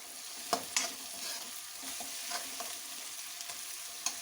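Chunky tomatoes cooking in a pan for dum aloo, a steady close sizzle and fry with a few sharp spoon scrapes and clicks, and no voices.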